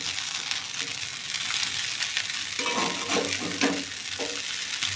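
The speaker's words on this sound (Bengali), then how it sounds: "চাউমিনটা এবার মিশিয়ে নিচ্ছি।" Chow mein being stirred and tossed in a regular, non-nonstick kadai, giving a soft continuous sizzle with scraping stirs that grow busier toward the end, heard alone at moderate-low level.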